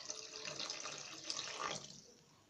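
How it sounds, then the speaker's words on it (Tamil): Steady running water pours and splashes into a cooking pot for a couple of seconds, a close, hissing stream that fades slightly toward the end. "இப்போ நம்ம கொஞ்சம் தண்ணி சேர்த்துக்கலாம்."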